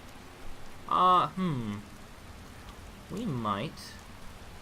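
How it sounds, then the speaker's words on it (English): Pouring rain in the video game Skyrim keeps up a soft, steady patter under two short stretches of someone talking. "Pouring down rain."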